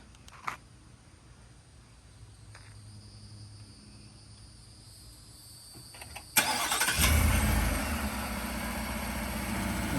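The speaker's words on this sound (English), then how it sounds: "Show you what it looks like when you remote start it." A 2021 Ford F150 pickup is remote started outdoors at night: faint crickets and a few clicks, then the engine abruptly cranks and settles into a steady idle.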